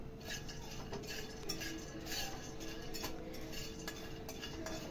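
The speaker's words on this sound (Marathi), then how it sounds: "ह्याच कढईमध्ये आपल्याला आता शेंगदाणे भाजून घ्यायचेत" Peanuts dry-roasting in a kadhai, with a continuous soft rustle and light clinks of nuts and a spoon against the metal pan, close and fairly quiet.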